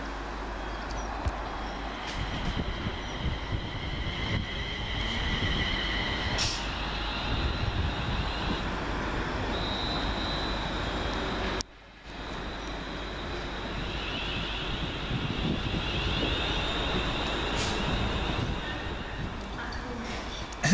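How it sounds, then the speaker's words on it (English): West Midlands Trains unit 35252, running as 2H55 from London Euston off the Chase Valley line, arrives at Rugeley Trent Valley station with a steady, loud rumble and rolling wheel noise that continues throughout, with a brief dip partway. "here comes our train off the Chase Valley line"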